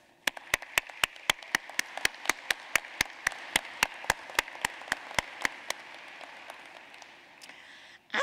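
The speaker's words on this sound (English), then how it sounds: "I would now like to pause and ask for a warm round of applause and appreciation for the family and friends" Applause at a law school commencement ceremony, heard as a series of sharp, evenly spaced claps that gradually thin out and fade, set against a soft background hush.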